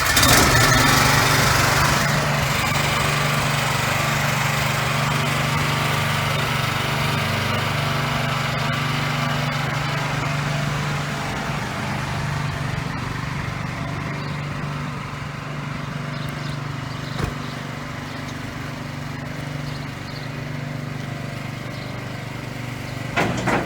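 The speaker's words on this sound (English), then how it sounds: "Starting the engine is easy." The engine of a Rondo BWISE Multi Tasker truck with a tilt deck flatbed starts and runs, a loud steady drone with a whiny, mower-like tone that eases slightly after the first seconds and holds for over twenty seconds, no voices.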